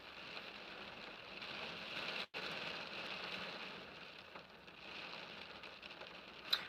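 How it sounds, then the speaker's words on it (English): Steady rain falls outside, a soft, even hiss of drops on surfaces that runs for several seconds with only a momentary dip, with no one talking over it. "It's actually raining"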